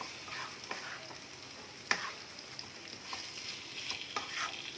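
Chicken pieces are stirred in a pan over a low flame for coconut chicken curry, soft sizzling under intermittent scraping strokes of a spoon, close and fairly quiet.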